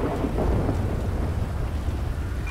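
A thunderstorm in the GTA 5 video game, steady heavy rain with a deep rolling thunder rumble that stays loud and constant throughout, with no voices.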